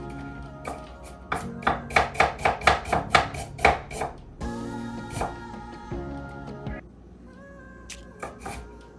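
A knife slices garlic cloves into rounds on a cutting board, a quick run of about a dozen sharp, evenly spaced chops followed by a few scattered cuts, close and crisp.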